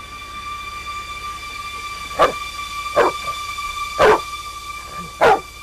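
A dog barks four times at spaced intervals, each a sharp, fairly loud bark, over a steady tonal hum with no speech.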